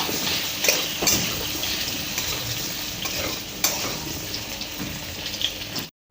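Food sizzles steadily in a hot kadai while turmeric is stirred in for a potato and prawn curry, a constant close frying hiss broken by a few scraping clinks of the spoon before it cuts off.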